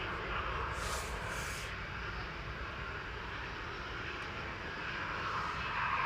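A KLM Boeing 737-800 jet on its flight to Amsterdam at Manchester Airport, a steady, moderately distant engine roar with broad rushing noise throughout, a brief higher hiss early on.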